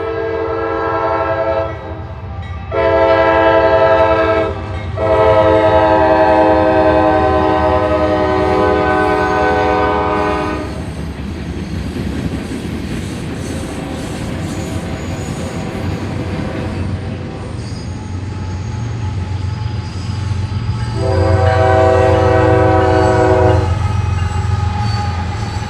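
Two trains pass at a crossing, Q523 and E015 on parallel tracks, with loud, sustained horn blasts sounding in long bursts at the start, fading into a steady rumble and clatter of cars, then another horn blast near the end.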